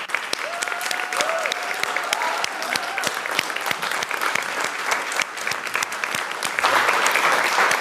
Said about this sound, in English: Please join me in a round of applause for Claudia.